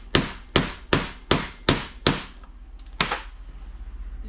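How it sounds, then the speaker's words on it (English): Six sharp, evenly spaced metallic taps from a soft hammer seating the crank seal on a bare two-stroke engine case, close up, then a quieter mechanical hum. "And we'll just take a soft hammer and just kind of work,"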